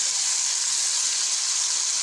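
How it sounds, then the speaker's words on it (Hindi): Minced meat sizzling in a hot pan with tomato and green chillies, a loud, steady, hissing fry close up with no talk. "ये अब साथ हम कीमा डालेंगे।"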